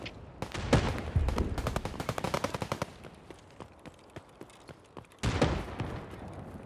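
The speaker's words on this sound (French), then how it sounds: "j'ai l'impression que ça tire au bâtiment où on doit aller en fait" Distant gunfire between PMC groups in Escape from Tarkov: rapid bursts of automatic fire and scattered single shots crackle from afar. A dense volley is followed by sparser pops and then another short burst.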